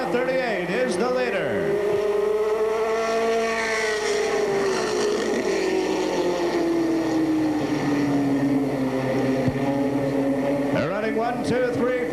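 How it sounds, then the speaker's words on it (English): Stock cars race around an oval track in a 1982 event, engines droning and sweeping past in a long rising and falling pass, with another car roaring by close near the end. "Randy Williams in car 38 is the leader."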